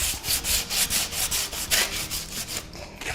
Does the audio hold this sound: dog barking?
no